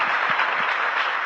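An audience in a hall applauds steadily to welcome a speaker, a dense wash of many hands clapping at constant loudness throughout.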